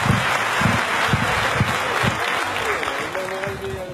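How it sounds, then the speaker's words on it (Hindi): A crowd applauds steadily, dense clapping filling the room, with voices mixed faintly underneath. "मिस्टर गौतम वाली के लिए एक जोरदार ताली से स्वागत किया जाए"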